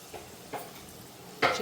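Sanjori sweets deep-frying in oil over a low flame give a soft, steady sizzle, broken by a few brief louder bursts, the last one sharp and close.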